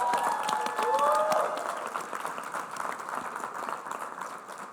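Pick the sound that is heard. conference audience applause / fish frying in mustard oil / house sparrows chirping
conference audience applause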